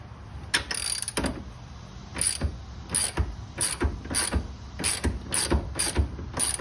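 A ratchet wrench clicks as it turns an 18 mm nut on a Porsche 986 rear control arm, with bursts of quick pawl ticks and short pauses between strokes, close and fairly quiet.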